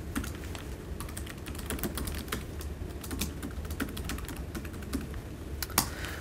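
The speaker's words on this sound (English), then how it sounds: "I'm going to type in my login." Fingers type a login on a computer keyboard, a quick uneven patter of soft key clicks that runs throughout, close and fairly quiet with no voices.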